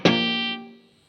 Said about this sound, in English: So we're now just on the dirty channel of the amp